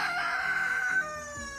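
A rooster crows once, loud and close, its drawn-out call fading near the end with no talk.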